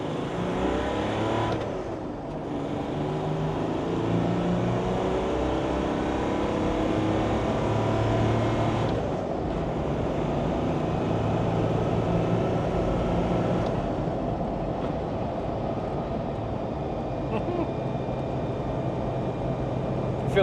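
A Land Rover Defender fitted with a Mahker M57 engine makes a second gear pull from 20 mph on a dyno. The engine gives a loud, sustained, steady roar for about twenty seconds, with brief dips along the way.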